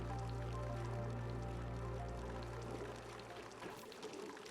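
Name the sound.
water pouring into tank in Demolior Survivors video game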